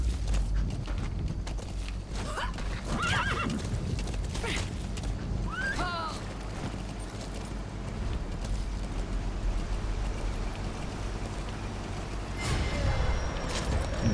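War horse hooves in Metal Gear Solid V, steady close clip-clop strides with creaking mechanisms, joined by brief squealing game sounds and faint voices.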